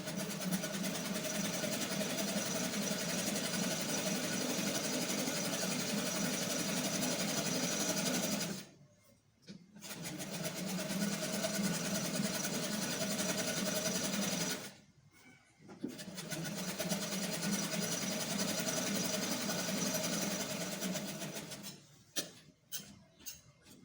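An electric sewing machine stitches trouser fabric in three long, steady runs of rapid mechanical whirring, separated by two brief stops, before ending in a few short bursts.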